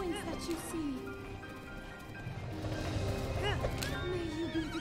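Horse in The Legend of Zelda: Breath of the Wild whinnying with a rising, wavering neigh amid game music and effects, with someone talking over it throughout.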